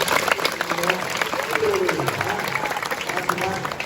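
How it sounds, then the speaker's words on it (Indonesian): Audience of schoolchildren clapping at a waste-management outreach session, a loose burst of applause mixed with chatter and voices throughout, moderately loud and busy. "Ayo tepuk tangan dulu."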